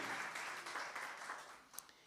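A church congregation applauds steadily, a dense wash of many hands clapping at a moderate distance, holding fairly even before easing slightly.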